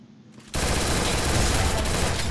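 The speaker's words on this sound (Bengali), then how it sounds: "ফাঁকা ফায়ার দাও, আমিও দিলাম" Rapid automatic gunfire in the mobile battle royale game Free Fire bursts in loud and close after a brief quiet start, then rattles on densely and without pause.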